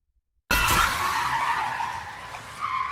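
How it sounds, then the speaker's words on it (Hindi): Motorbike braking suddenly on a deserted forest road at night, a sharp tire skid that bursts in after a moment of silence and screeches loudly before slowly fading, with no voices. "आदित्य ने झटके से ब्रेक लगाए"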